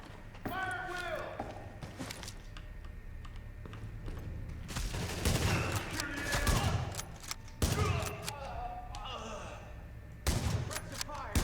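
Gunfire in the video game The Division, bursts of rapid shots and impacts spread across the stretch at varying intensity, with in-game voices shouting over parts of it.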